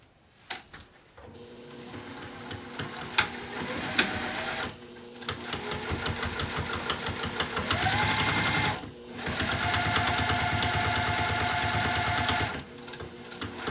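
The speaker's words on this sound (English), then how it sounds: "we're just going to sew down the entire length of the sides at a 5/8 of an inch of a seam allowance" A sewing machine stitches the side seams of a bag lining at a 5/8 inch allowance, running in several long rapid bursts with brief pauses between them, close and steady.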